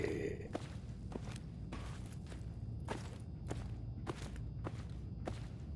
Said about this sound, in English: it's purely that I'm just enjoying the sound of the footsteps in the environment